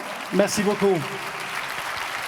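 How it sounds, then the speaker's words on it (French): A conference audience applauds the panel at a public science talk on fake news, a soft, sustained spread of clapping that follows a brief spoken thank-you and continues on its own. "Je vous demande d'applaudir chaleureusement pour notre panel."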